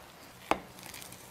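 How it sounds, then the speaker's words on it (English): A single sharp knife thunk as baked Italian turkey meatloaf is cut through onto a board, close and brief against a quiet kitchen background. "Okay, so our meatloaf is done. So now we're gonna cut."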